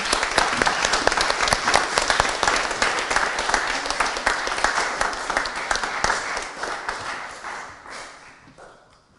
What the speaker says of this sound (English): So big hand of applause for everybody